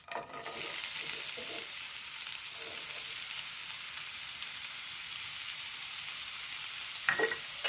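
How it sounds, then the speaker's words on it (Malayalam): Onions frying in coconut oil in a pan give a steady, loud, close sizzle that holds evenly throughout, with a few faint clinks of stirring near the end. "ഇനി ഇതിലേക്ക് ഉള്ളിയാണ് സവാള ഇട്ട് കൊടുക്കുന്നുണ്ട്"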